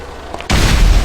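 A sudden loud boom as an air balloon bursts in a PC game, cutting in abruptly and leaving a dense, roaring wash of noise afterward.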